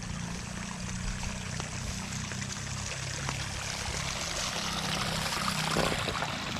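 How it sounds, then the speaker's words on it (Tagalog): Irrigation water rushes strongly into a rice paddy field, a steady broadband gush with a low rumbling undertone, continuous and fairly close, with no talking. "Yan, maganda po naman at may dumarating ng malakas sa patubig"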